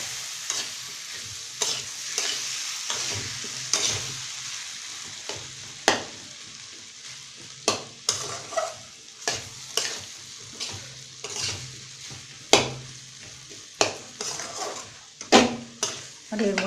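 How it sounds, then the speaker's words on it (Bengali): Poppy seed paste with a little water frying in a pan, for aloo posto, with steady sizzling under repeated sharp scrapes and knocks of a spatula stirring against the pan, close and fairly loud. "ভাজা ভাজা করব।"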